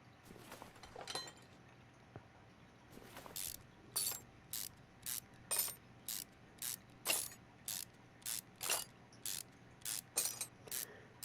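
In Car Mechanic Simulator 2021, bolts are undone with a ratchet. Quick bursts of ratcheting clicks repeat at a steady pace, each one brief and crisp, with nothing else in the background.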